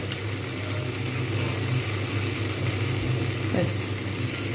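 Sour yogurt hits a pan of katla fish curry, giving a steady, fairly loud sizzle and frying hiss throughout with a brief stirring scrape near the end.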